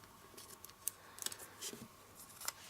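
Scissors trimming excess tape off a wrapped chocolate tin, a few faint, close snips and light clicks scattered unevenly over a quiet background.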